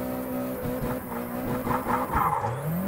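A 180SX in Assetto Corsa revs under load, its engine intake and turbo drone and whoosh while tires squeal, the pitch climbing and wavering, loud and close throughout.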